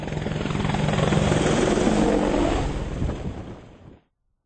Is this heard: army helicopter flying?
yes